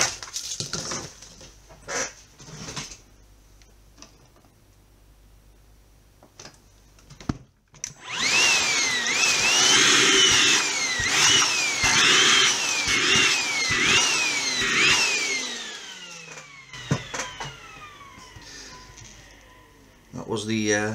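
A Milwaukee vacuum cleaner switched on to clean a repair workbench, a loud steady whine with shifting pitch as the nozzle moves over the surface, preceded and followed by clicks and handling noises.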